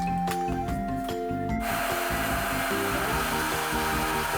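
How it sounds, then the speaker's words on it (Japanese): Hair dryer blowing hot air onto heat-shrink tubing over a fuse during a drill repair, a steady loud whooshing roar with a humming motor tone, starting with a sudden surge partway in and running continuously. "ドライヤーで温めて収縮させるだけやな。"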